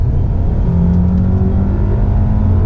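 A turbocharged Volkswagen CC Sport accelerates under load, heard from inside the cabin as a steady, loud low engine drone with a faint rising tone, no voices.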